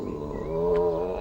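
A bull-roaring prank made by shoving paper up a pipe gives a sustained, droning buzz with a steady low hum, close by and alone for just over a second.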